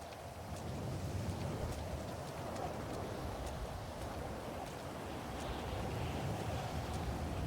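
Steady rain falls in the game GTA V on a NoPixel roleplay server, a constant broadband hiss with faint patter, continuous and moderately quiet, with no voices over it.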